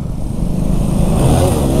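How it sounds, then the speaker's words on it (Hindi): A motorbike revs hard in second gear while attempting a wheelie, its engine a loud, close, rising roar that builds steadily. "सेकंड गियर डाला ना, तो भाई ये गया था व्हीली के चक्कर में"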